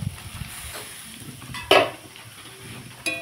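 Potatoes fry in a pan with a quiet, steady sizzle, broken by a couple of sharp clinks of a utensil against the pan.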